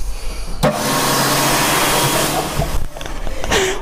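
A hand dryer in a studio restroom blows steadily for about three seconds as a loud, broad whooshing roar, then cuts off briefly before starting again near the end.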